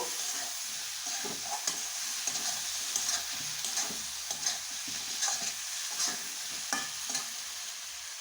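Coriander, cumin and chili spice paste frying and being stirred in a pan for chicken kosa, a steady soft sizzle with scattered scrapes and light ticks, close and fairly quiet, with no talk.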